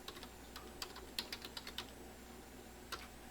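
Quick bursts of keystrokes on a computer keyboard, typing a search into a PC, close and fairly quiet, with clustered clicks then a pause and a final tap.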